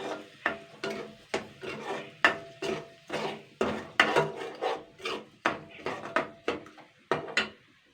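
Washed Gobindobhog rice is turned with spices in a pan, a spoon scraping the pan about twice a second in a steady run of close, rasping strokes.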